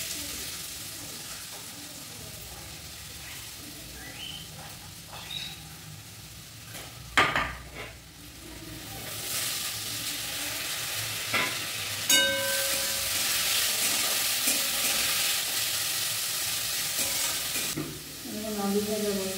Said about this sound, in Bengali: আলু ভাজা বসালাম, মা আলু ভাজা খাবে, আলু পেঁয়াজ ভাজা, সেটা বসালাম।